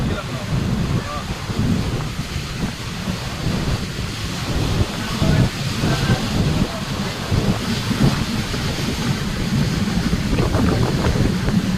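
Strong wind blows hard and continuously ahead of a rainstorm, a loud rushing roar that buffets the microphone for the whole stretch, with a voice faintly underneath.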